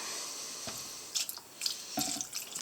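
Water trickling into a Harbor Freight rock tumbler barrel, quiet drips and splashes that start faintly and pick up in short bursts, with no talking.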